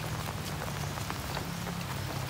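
Steady rain falls outdoors, a dense, even hiss of drops striking surfaces throughout, with no voices heard.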